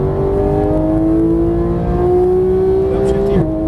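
A Porsche GT3 engine pulls hard at full throttle, its rising mechanical howl climbing steadily in pitch before a sudden break near the end as the revs drop, loud and close, with a voice talking over it.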